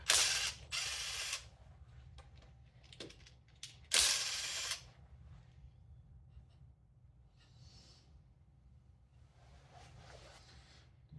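A socket wrench with a 12mm socket ratchets on a plate bolt during a 7M-GTE engine teardown, making two loud bursts of rapid clicking followed by softer, sparse clicks and handling noises.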